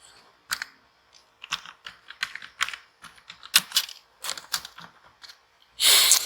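Someone types a name on a computer keyboard in irregular bursts of close, crisp key clicks with pauses between, ending in a louder rustle.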